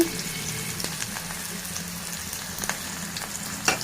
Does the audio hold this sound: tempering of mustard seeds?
yes